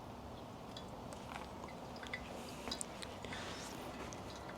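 Hot water poured at the center of a coffee bed during a pour-over brew makes a faint, soft trickle with light drips, heard quietly and alone.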